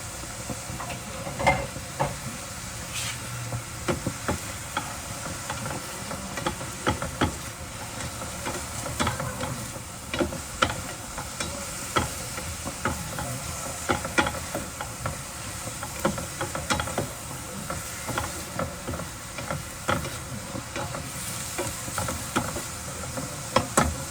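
Onion sautéing in a pan for pork adobo, a continuous bright hiss of frying with frequent crackles and stirring scrapes over about twenty seconds.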